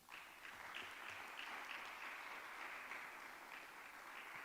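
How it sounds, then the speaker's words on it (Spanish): Sustained audience applause follows a poem recitation at a literary event in Barakaldo, steady dense clapping holding at an even level throughout. "Un aplauso"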